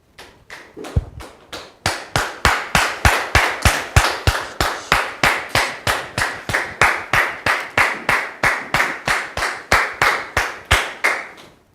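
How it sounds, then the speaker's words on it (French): A studio audience on a French talk show claps in steady unison, a loud, evenly spaced rhythmic beat of many hands that continues for about ten seconds before stopping. "Merci public de recevoir Dame Kofi sur ce plateau sous vos applaudissements"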